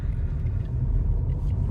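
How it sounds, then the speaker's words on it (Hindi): A car pulling away in second gear with a beginner at the wheel: a steady low engine rumble and road noise heard from inside the vehicle. "अभी देखिए सेकंड गियर ले करके इसने गाड़ी को आगे बढ़ाया।"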